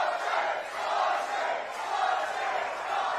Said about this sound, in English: Crowd chanting, Boston